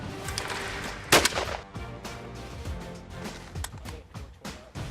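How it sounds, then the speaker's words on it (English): Shotgun blasts at clay pigeons on an outdoor range: a sharp, loud report near the start followed by several softer pops and bangs at irregular intervals. "No, let's keep shooting."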